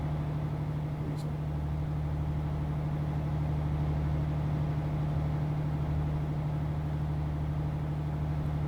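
A MAN TGX truck cruising in Euro Truck Simulator, producing a constant low tire and wind drone that stays steady and fairly quiet for the whole stretch, with no speech over it.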